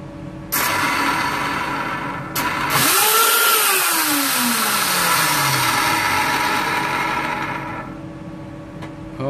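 A Milwaukee M18 wet and dry vacuum motor with a worn front bearing spinning up on bare conductors, giving a loud continuous whine that rises and falls in pitch with harsh rough noise, close and steady.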